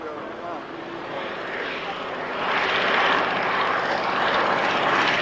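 Replica Fairey Flycatcher biplane flying at the Yeovil airshow, its propeller engine droning and swelling louder as it passes, heard under a public-address announcer's speech.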